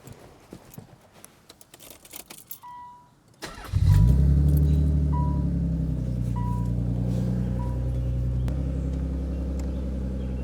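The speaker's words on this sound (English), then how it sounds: "So now I'm gonna start the car just to make sure everything works." Nissan 300ZX Z32 engine starting after taillight installation: a few quiet clicks and a brief crank, then the engine catches with a loud rumble and settles into a steady idle, with faint chimes above.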